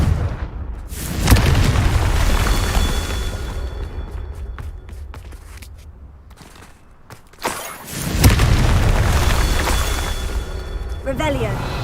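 A Confringo blasting spell explodes in a Harry Potter video game: a loud booming blast with a lingering rumble that fades, then a second heavy burst later, with game sounds and a voice in the background.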